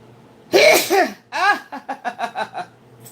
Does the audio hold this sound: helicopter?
no